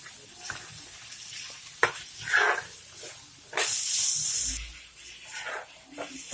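Sliced onions sauté in hot oil for a Tamil prawn curry, giving a steady close sizzle with bursts of hiss and occasional scraping as they are stirred.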